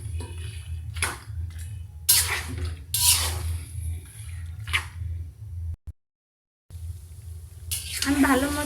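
Whole spices being stirred in hot mustard oil in a pan for an olive pickle, giving a steady sizzle with scraping bursts of the utensil, a brief silent gap, and louder sizzling near the end.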